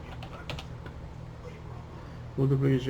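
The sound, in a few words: typing on a computer keyboard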